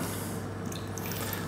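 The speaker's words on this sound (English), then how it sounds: "Now I'm going to put in the white wine vinegar." White wine vinegar is poured over a lamb shoulder in a roasting tin, giving a continuous close, hissing, splashy liquid sound throughout a short stretch.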